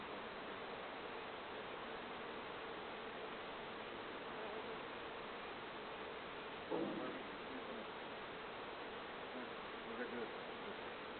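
Honeybees buzz in a dense, continuous drone during a spring hive inspection, with a faint knock or rustle partway through.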